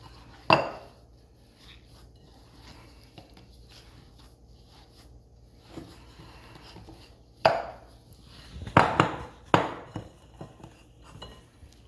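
Utensils scrape and clack against a bowl while Brazilian cheese bread dough is stirred, with scattered knocks and a cluster of louder clatters toward the end, mostly alone in a quiet room.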